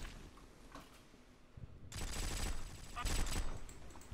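Rapid automatic gunfire from a weapon in the shooter game War Trigger 2, a dense burst of shots starting partway through and continuing loudly to the end after a quieter opening.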